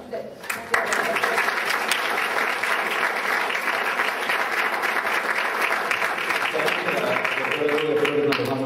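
A crowd claps loudly and continuously at a law and politics conference in Peru, applause sustained evenly from start to finish with no talking over it.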